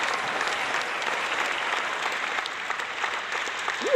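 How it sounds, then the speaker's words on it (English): Applause sound effect on a livestream, an even wash of crowd clapping lasting about four seconds, close and steady, with no voices over it. "Let's give the channel a round of applause being out of YouTube jail."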